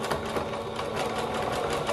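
Sewing machine edge stitching elastic onto a knit romper, a steady, continuous mechanical whir with a fast needle rhythm, close and loud, with no talking.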